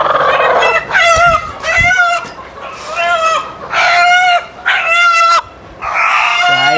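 A country rooster at a rural village dhaba crows and clucks loudly and up close, giving several drawn-out calls in a row over steady background noise.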